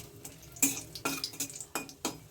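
Half a teaspoon of black cumin and a dried red chilli fry in oil in a pan, with soft sizzling under a series of sharp scrapes and taps from a spoon against the metal.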